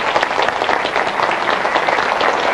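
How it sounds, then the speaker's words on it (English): Seminar audience giving a loud, dense round of applause as a speaker is welcomed to the stage, many hands clapping close and continuously throughout. "give him a big hand and a big round of applause"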